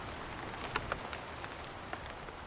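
Rain patters through the Otway forest in Victoria, Australia, a close, steady wash of drops on wet leaves with a few sharper individual drips standing out, heard without any voices.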